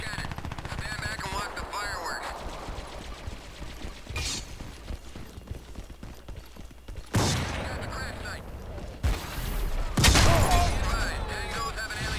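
Shotgun blasts ring out in the Crysis 3 beta: sharp, loud reports at irregular intervals amid other gunfire and game effects, with a voice talking in between.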